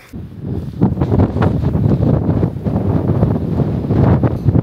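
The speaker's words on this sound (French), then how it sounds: "Oh quel vent mon ami, ça souffle, ça s'arrête pas." Strong wind in Nepal buffets the microphone in loud, continuous gusts near Buddhist prayer flags, a heavy rumbling roar with no pause.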